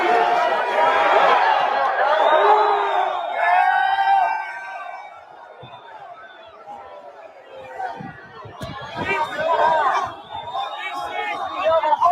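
A crowd at the Capitol on January 6th keeps up a steady roar of chatter, with occasional whoops and shouts rising above it.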